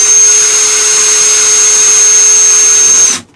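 A power drill bores through the roof of a Forest River pop-up camper tent trailer, a loud steady whine that holds at full speed for about three seconds and then cuts off abruptly.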